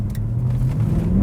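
Mercedes-Benz W204 C63 with its 6.2 V8 pulling hard in second gear, a loud, close, deep engine roar with a rising low drone and throaty rumble throughout.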